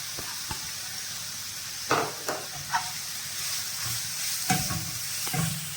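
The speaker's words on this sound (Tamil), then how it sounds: "துருவனது கேரட்டு நல்லா நெய்யிலே பண்ணி வறுத்து எடுத்துக்குவோம்." Grated carrot frying in ghee in a pan: a steady close sizzle broken by several sharp scraping stir strokes, with no voices.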